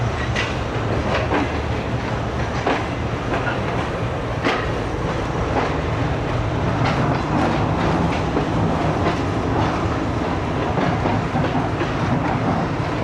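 Economy-class passenger train on the Rohri to Lahore Greenline run, rolling steadily with a continuous rumble and irregular clicks of wheels over rail joints, heard from inside a carriage with no talk.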